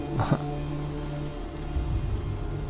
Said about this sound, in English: Oh, that rain. It's beautiful.